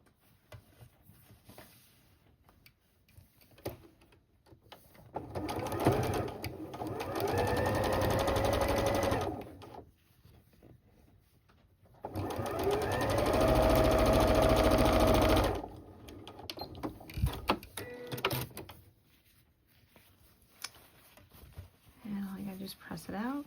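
A sewing machine stitches quilt four-patches for a bowtie block in two sustained runs of a few seconds each, separated by quieter stretches of fabric handling.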